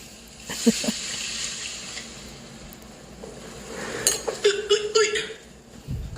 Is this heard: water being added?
yes